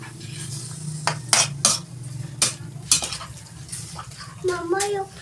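Squid adobo (adobong pusit) being stirred in a pan, with a few sharp scraping and clinking strokes of a utensil against the metal over a low background hum, and a voice briefly heard toward the end.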